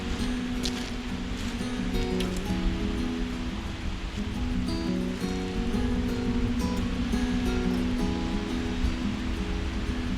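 Waves washing onto a pleasant lakeside beach at Loch Lomond, a steady, continuous wash of water at moderate level with no talk.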